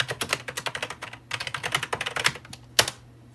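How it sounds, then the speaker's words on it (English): Quick, uneven keystrokes clatter on a computer keyboard during a Windows XP Home Edition setup on an Intel Compaq PC, close and fairly soft, coming in bursts with short pauses and a final sharp key press. "I'll type in my usual name and organization."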